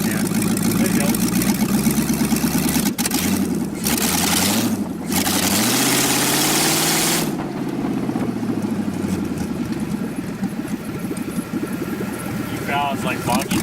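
An LS turbo engine in a Miata-based kart idles steadily and loudly at close range, with rough low rumble and a brief dip and recovery in the middle.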